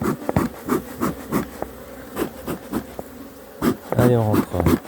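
Honeybees buzzing around an open hive during an inspection, a steady insect drone with soft bumps and handling noises, a person speaking quietly over it.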